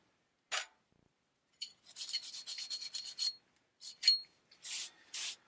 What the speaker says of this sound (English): I'm going to use this dental pick just to get any carbon that's built up around the bolt face out.